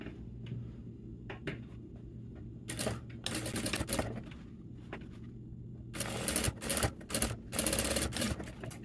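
A sewing machine stitches a jeans pocket in quick whirring bursts separated by quiet pauses, fairly close and moderately loud, with no talking.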